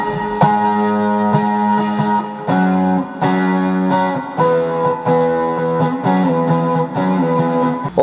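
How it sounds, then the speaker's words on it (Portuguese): A Tagima Sixmart electric guitar plays through drive, chorus, delay and reverb effects, with distorted, sustained chords struck in a steady rhythm and ringing, shimmering tails between strikes, loud and close with no talking. "Dá pra combinar esse efeito do drive com os efeitos do chorus também"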